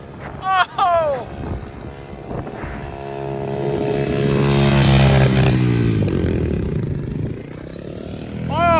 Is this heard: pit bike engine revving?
yes